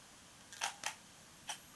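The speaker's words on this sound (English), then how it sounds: "you can watch the Nissin flash when I fire the shutter" Camera shutter on an Olympus or Panasonic Micro Four Thirds body firing a wireless Nissin i40 flash: two quick crisp clicks close together, a pause, then a third click, all close and alone in a quiet room.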